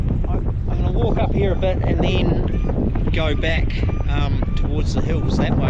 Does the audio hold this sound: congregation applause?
no